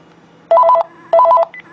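A phone ringback tone from a SIP call on an iPod Touch sounds twice in short electronic bursts, clear and close, followed by a brief higher beep.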